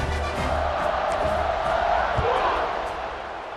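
Stadium crowd in EA Sports College Football 26 roars with steady cheering throughout, a broad sustained wash of many voices with a brief swell midway and fading slightly at the end.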